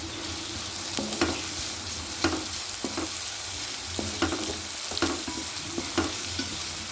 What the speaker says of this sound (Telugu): వీటన్నిటిని లైట్గా ఫ్రై చేసుకుందాం.